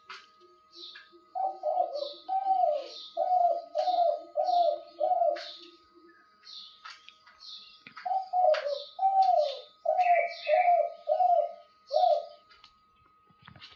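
A pet bird coos like a dove in two close, clear runs of soft, evenly spaced calls, separated by a short pause, with faint higher chirps behind.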